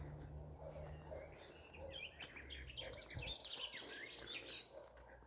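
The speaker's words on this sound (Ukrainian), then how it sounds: "Пташки співають." Faint birds chirp and warble in the distance over a low outdoor rumble, their calls growing busier toward the end.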